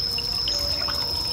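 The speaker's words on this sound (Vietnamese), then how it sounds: "cho nên mình sẽ đổ tiếp cái nước suối này nè" Bottled mineral water pouring into the cooling system of a Hyundai i10 during a home coolant change, a steady, soft liquid trickle with faint drips, close and continuous, with no voices.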